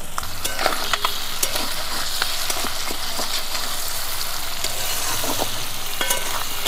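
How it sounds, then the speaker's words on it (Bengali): Green chillies and onions are stirred in a pan of fried fish oil, a steady, loud sizzle running throughout with frequent scraping clicks of the spatula, close up and without speech. "এবার কাঁচা লঙ্কাগুলো তুলে দিচ্ছি, পেঁয়াজগুলো এর মধ্যে দিয়ে দিচ্ছি, এর মধ্যে থেকে আরও তেল বেরোবে।"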